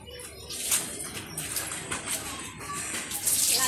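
Water runs from a household tap in a steady, close, broadband rush that stays even throughout, with faint bird-like chirps in the background.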